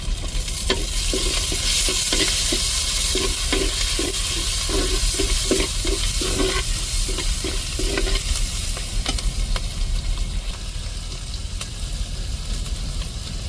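Tomatoes and chili sautéing in a pan in a home kitchen, a steady loud sizzle with a rhythmic series of stirring scrapes and knocks through the first eight seconds, then continuous frying alone.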